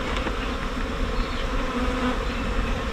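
Honey bees drone in a dense, continuous buzz during a hive inspection of a checkerboarded colony, close and steady throughout with no voices.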